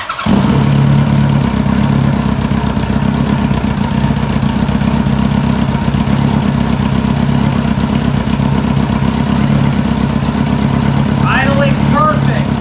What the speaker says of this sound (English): This bike starts, runs, and actually idles pretty well.